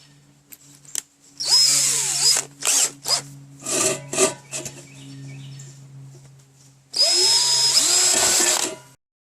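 Power drill driving screws into a #10 can while building a hobo stove: loud, close whirring bursts, several short stuttering pulses in the middle, then one long sustained run at the end, no voice.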